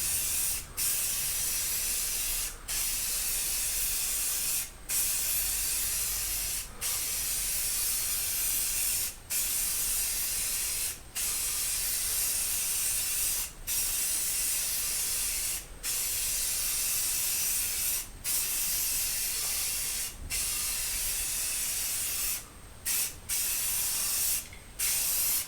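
Spray paint goes on heavier and wetter as a second coat on a steel-clad exterior workshop door, a long loud hiss broken by brief regular pauses between passes, with no talking.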